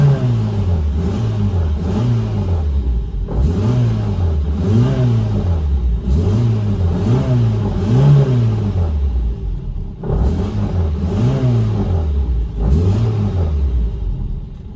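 Engine of an FSO Polonez Special revving repeatedly, rising and falling in steady cycles of throttle blips, loud and close with a rumbling mid-range tone and no speech.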